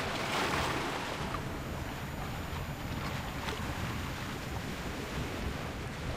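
Ocean waves from the game Love & DeepSpace wash steadily in a broad, even hiss with a soft swell near the start, continuous and fairly quiet, with a light breeze and no talking.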